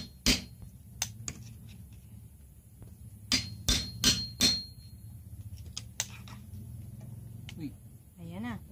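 A hammer strikes during household repair work, scattered sharp knocks, including a quick cluster of four, over low background hum, with people talking nearby.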